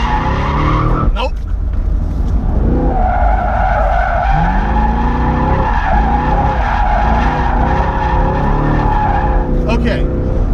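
A Camaro SS drifts with loud, sustained tire squeal and skidding under a revving engine, the screech rising and falling in long sweeps across the run, with voices talking over it.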